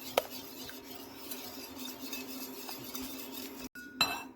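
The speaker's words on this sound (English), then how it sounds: "Now whisk in half tablespoon of vanilla essence or extract." A whisk beating vanilla extract into crepe batter in a bowl, quick light metallic clinks and scraping against the bowl over a steady hum, with a sharper clatter at the start and near the end.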